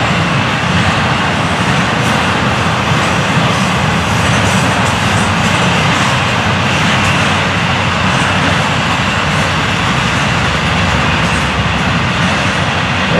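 A southbound intermodal freight train with articulated cars rumbles past steadily and loudly, a continuous roar of wheels and rolling cars lasting the whole stretch with no voices.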